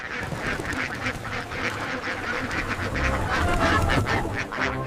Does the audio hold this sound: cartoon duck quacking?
yes